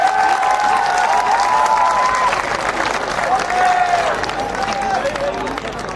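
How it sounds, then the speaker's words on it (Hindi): Audience applause at a live Hindi poetry recital, a large crowd clapping loudly and continuously with some cheering and a sustained voice carrying over it, gradually easing toward the end. "मुझे बताइए तालियां बजा करके"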